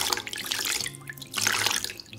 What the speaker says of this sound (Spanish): enjuagamos los lentes con el agua limpia y fría